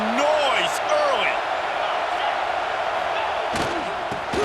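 A stadium crowd roars in the video game College Football 26, a loud broad cheering wash with whistle-like pitch swoops and a few sharp thumps, steady and close throughout.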